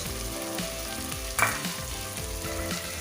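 Tomato-onion masala sizzles steadily in a pan for a ridge gourd (torai) sabzi as crushed red chili goes in, with a brief louder hiss and rattle about midway through the continuous frying.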